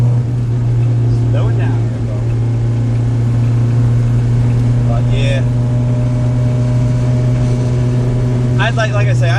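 K24-swapped Acura Integra engine droning and revving while driving, a loud steady low hum with rising rev sweeps under brief spoken remarks.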